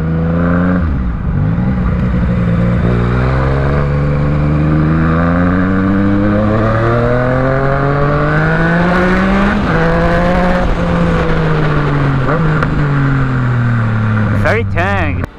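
A Yamaha MT-09 motorcycle engine revs loud and close on a test ride, its pitch sweeping up and down through a steady roar that barely lets up, while someone talks over it.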